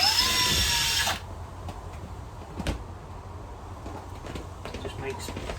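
A power drill runs loudly for about a second, starting pilot holes for screws in solid wood, its whine rising then cutting off abruptly, followed by quieter handling knocks and background noise.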